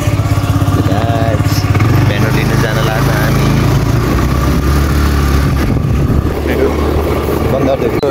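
A friend's scooter being ridden along a road, its loud, steady engine drone and wind rush running throughout while people talk over it.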